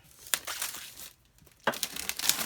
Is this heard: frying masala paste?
no